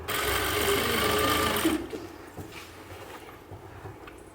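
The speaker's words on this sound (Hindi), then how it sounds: "चलते हैं मशीन पर, सिलाई को देखो कैसे लगेगी" A sewing machine stitches a designer blouse with a steady, close mechanical whir for about two seconds, then stops, leaving faint handling sounds and quiet room noise.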